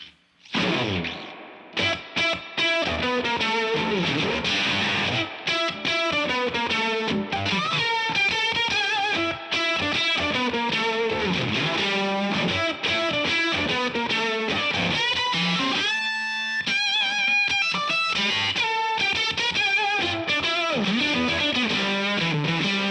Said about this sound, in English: This is one of my favorite octafuzzes on the market.